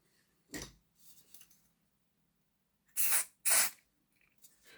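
Contact cleaner is sprayed onto the drive parts of a Bachmann Class 166 DMU model train in short hissing bursts: one early, then two louder close bursts a moment apart.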